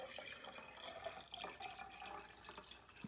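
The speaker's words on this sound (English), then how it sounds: "you first take your jar and you fill it 3/4 full of water" Water pours steadily into a glass jar, a continuous splashing trickle that sounds fairly close and stays on its own with no voices.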